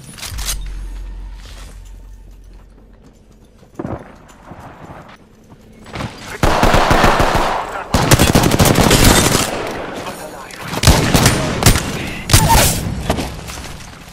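Gunfire in the video game Apex Legends, with rapid automatic bursts and repeated loud volleys clustered in the second half. One short shot comes earlier amid quieter stretches.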